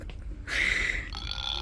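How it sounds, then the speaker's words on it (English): A toy creature gives a long, croaky burp up close, after a few soft handling sounds. "Ew, it burps."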